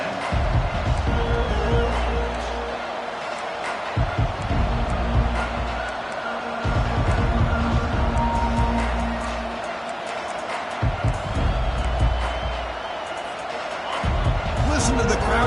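A college football stadium crowd roars in a sustained wash of cheering that swells and dips in waves, with broadcast commentary talking over it.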